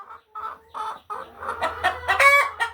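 A laying hen on a family farm clucks close by in a rising series of throaty calls, growing louder and more insistent toward the end.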